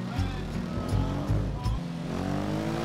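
A Japanese motorcycle in GTA 5 revs and accelerates, its engine note rising in loud repeated surges under a voice.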